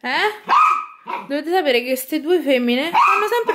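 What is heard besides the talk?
dogs barking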